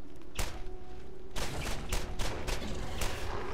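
Pistol gunfire in the video game Borderlands, a single shot followed by a series of sharp, evenly paced reports, loud and close over a low game background.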